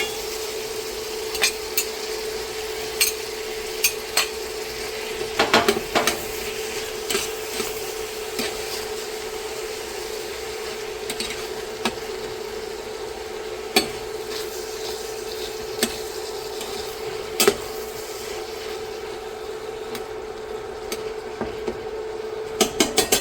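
Lobster and crawfish tails being stirred in a hot pan with a wooden utensil, giving a steady low sizzle broken by scattered scraping clicks and taps across the whole stretch, with no talking.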